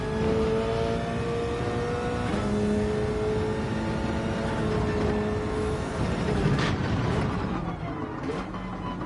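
A Group 3 race car engine in the video game Gran Turismo 7 drones loudly and continuously, its pitch climbing through gears and dropping on shifts as the car laps the track.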